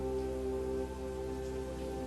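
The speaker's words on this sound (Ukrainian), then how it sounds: "Краплі настільки маленькі, наче їх зверху пропускають через дрібне сито." Fine, drizzly rain with tiny drops falls steadily, a continuous soft hiss over a faint low hum, with no voices.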